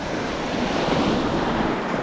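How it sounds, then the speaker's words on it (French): Ocean waves break and wash continuously onto a sandy beach, with a loud, dense roar of surf mixed with wind buffeting the microphone and no voices. "Il y a des belles vagues là."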